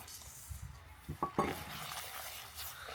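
Raisins tipped into bubbling caramel tinted with food colouring, in a pan for semai laddu: a soft frying hiss with a few sharp spoon-on-pan knocks and scrapes clustered near the middle, close up, without talking.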